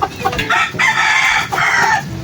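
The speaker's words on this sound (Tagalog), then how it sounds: "Ayan, nagtatawag pa ng inahin si Kanaway." A rooster calling to hens gives loud, rapid clucking calls up close, a repeated rolling call with no talking.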